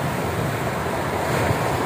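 Ocean surf at Pantai Cikembang, a natural beach in Lebak, Banten, roaring as a steady dense wash of waves with wind buffeting the microphone, loud and continuous with no voices.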